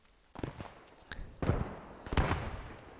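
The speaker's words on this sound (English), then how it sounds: "mortars incoming on 53 and 42" Mortar shells land in a wooded area during a World War II multiplayer match on the Stonne map, giving three or four muffled booms that swell and rumble on, with a few lighter cracks between them at moderate distance.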